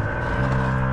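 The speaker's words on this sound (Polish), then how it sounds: "To, co słyszeliście, to jest pneumatyczne zawieszenie, które ma samoregulację wysokości" Steady low mechanical hum and whir from a camper van's pneumatic air suspension self-levelling its ride height, a continuous close compressor-like drone with no pauses.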